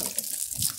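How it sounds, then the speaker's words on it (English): Water pours into a chicken waterer in a homestead video game, a brief steady splashing stream, close and fairly loud, with no voices. "And just put a little bit of water in there."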